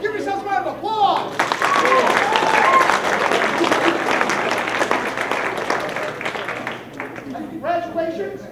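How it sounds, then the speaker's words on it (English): An audience at a hypnotist's show at Baker College bursts into loud, sustained applause with clapping and cheering, while a voice speaks over it at the start and end. "Give yourselves a round of applause!"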